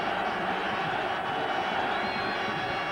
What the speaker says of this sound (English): Crowd now rising.